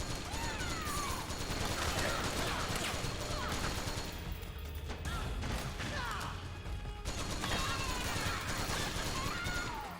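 Gunfire in the Metal Gear Solid 4 video game during a firefight, a dense, continuous clatter of shots and mechanical impacts that keeps going steadily, fairly faint and far off.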